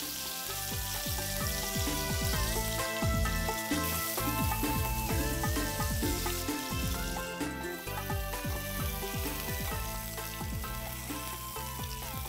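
A thin-cut steak fries in oil in a pan, a steady loud sizzle and crackle running throughout with no talking.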